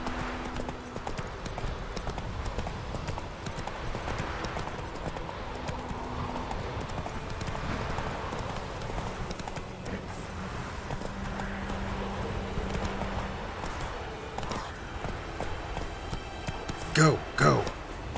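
Horse hooves clip-clopping at a steady trot in The Witcher 3, a repetitive rhythmic beat under someone talking, with a brief louder clatter near the end.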